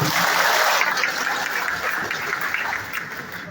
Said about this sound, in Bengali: সকল অতিথির জন্য একটা জোরে করতালি